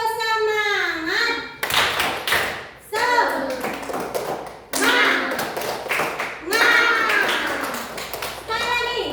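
A group claps out a 'tepuk semangat' spirit clap in short bursts of brisk hand claps, set between stretches of voices speaking and chanting.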